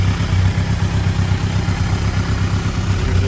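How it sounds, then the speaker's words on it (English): A 2011 Kawasaki Ninja ZX1000 with a twin Akrapovic exhaust with carbon tips, its engine idling steadily and close by with a low, even rumble and no voices. "It's got a twin akrapovic exhaust, carbon tips"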